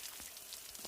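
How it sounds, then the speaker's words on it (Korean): Rain pattering on a tent at night in a riverside park along the Nakdong River, a steady soft hiss of drops with a few slightly louder taps, no voices. "비가 오고 있네요."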